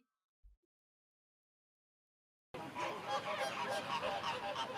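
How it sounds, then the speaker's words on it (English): Flock of Caribbean flamingos calling during a courtship display, a dense goose-like honking chorus that starts abruptly after near silence and carries on steadily at moderate volume. "Here we've got a flock of Caribbean flamingos performing their courtship display."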